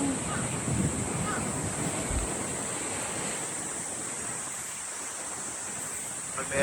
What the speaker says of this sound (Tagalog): Masyadong mahangin dito.